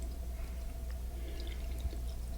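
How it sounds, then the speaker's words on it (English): Tap water runs into a spray bottle being topped up, a steady pouring rush with a faint drip. The sound is continuous and close, with no speech. "top up the spray bottle with the water,"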